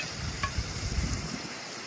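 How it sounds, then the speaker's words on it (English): Soft, steady sizzling of plantain frying in hot oil outdoors at a beach picnic, with faint stirring, continuous and close, no voices. "So we'll start frying them, you know?"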